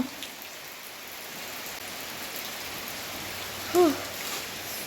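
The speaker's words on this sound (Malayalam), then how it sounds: "മഴ വീഴുന്നുമുണ്ട്" Monsoon rain falls in a steady, soft hiss that holds evenly throughout, with one brief louder tonal blip near the end.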